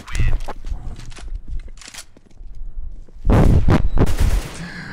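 Sharp bursts of automatic rifle fire in Counter-Strike: Global Offensive crack out in quick clusters, loud and close, with a heavier sustained volley near the end.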